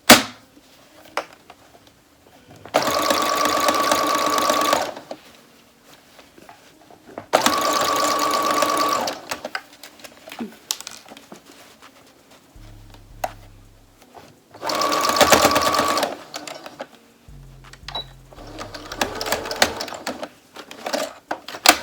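A sewing machine stitches a two-piece pant set in three loud, fast bursts of a few seconds each, separated by quiet pauses and small handling noises.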